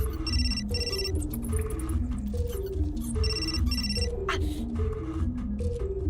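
A phone rings in the video game Still Life 2 with two bursts of a repeating electronic ringtone over a low, looping musical backing. The sound is clear and loud, and no one speaks over it.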